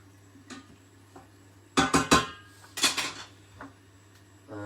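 A utensil stirs and scrapes basmati rice in a pan, breaking up the grains, giving a few sharp clinks and scrapes in two short clusters over a steady low hum.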